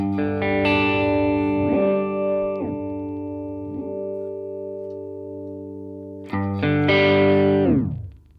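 Guitar chords run through a Headrush processor's Chord Wham pitch-shift effect, sustained harmonized tones that bend down and back up in several smooth sweeps, then a fresh loud strum near the end that rings and fades, with no voices.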